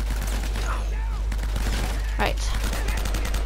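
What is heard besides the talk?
M4 rifle gunfire in Uncharted: Drake's Fortune video game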